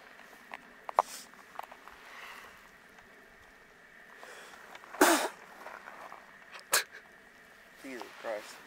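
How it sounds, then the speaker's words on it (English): A single sharp sneeze bursts out, loud and close, amid faint outdoor noise, scattered small clicks and rustles, in Joshua Tree National Park. "Is that a sneeze?"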